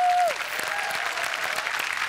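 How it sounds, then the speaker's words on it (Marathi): Studio audience applause on a Marathi comedy talk show, welcoming a guest for a new film. Steady crowd clapping fills the whole stretch, with a short tone fading out at the very start and no talk over it. "जोरदार टाळ्या झाल्या पाहिजेत या नव्या कोऱ्या सिनेमासाठी"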